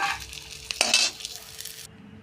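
Potatoes fry in hot oil in a pan, a close sizzle broken by a spoon scraping and stirring, one louder clatter as pieces are lifted out, then sudden quiet.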